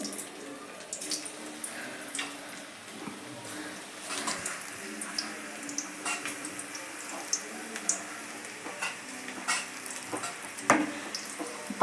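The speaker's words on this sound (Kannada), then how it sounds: "ಈಗ ಎಣ್ಣೆ ಕಾದಿದೆ ನಾನು ಪಕೋಡ ಮಾಡ್ಕೊತಾ ಇದ್ದೀನಿ" Spinach pakoda frying in heated oil for a North Karnataka-style snack, a steady close sizzle and crackle throughout with scattered pops and clinks of stirring, no talk.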